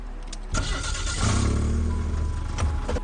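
A Pontiac car engine cranks and catches, a sharp start followed by a steady, loud running rumble that holds close by with no talking over it.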